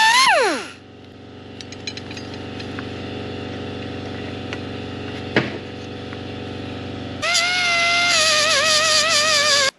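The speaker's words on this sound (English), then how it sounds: "So I'll just cut that bolt out and I can grind that off." An angle grinder grinds off a welded bolt on an engine part from a 1939 Caterpillar D4 with a D4400 diesel engine. A steady low workshop hum runs throughout, then a loud, wavering high whine takes over for the final few seconds.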